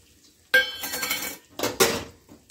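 A spoon stirs roasted semolina into boiling water in a pot, giving a few loud metallic clanks and scrapes against the pot in two short bursts, with near silence before.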